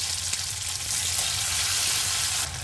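Chopped onion and small tomato sizzling in a pan for an ivy gourd gravy; a steady, close hiss of frying with no talk.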